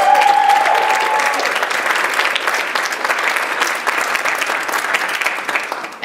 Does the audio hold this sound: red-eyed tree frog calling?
no